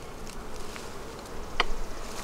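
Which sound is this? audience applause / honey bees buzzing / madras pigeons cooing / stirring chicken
honey bees buzzing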